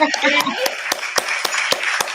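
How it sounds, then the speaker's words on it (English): A few people applaud at a legal career presentation: a short burst of mixed speech and clapping, then a steady, sharp series of single hand claps at a regular rhythm, close and distinct. "We're going to go ahead and give you a hand clap for that."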